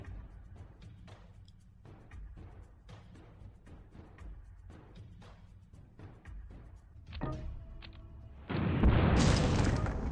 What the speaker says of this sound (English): we'll get some rocket artillery set up to take out that artillery piece down there